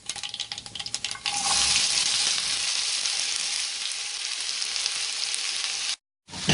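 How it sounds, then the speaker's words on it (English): Chopped onion and capsicum frying with popping mustard seeds in hot oil, a loud, steady sizzle with stirring scrapes, opening with scattered crackles before the full sizzle settles in, then briefly cutting out near the end. "So we're going to fry this now until the onions become translucent."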